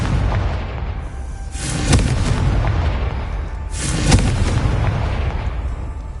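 Two booming fire-blast explosions from the Confringo spell in the Hogwarts Legacy video game, each a loud broadband burst about two seconds apart, over a constant rumbling game background.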